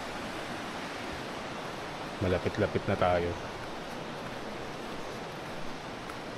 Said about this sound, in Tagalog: natatanaw ko na yung tubig dito, yung ilog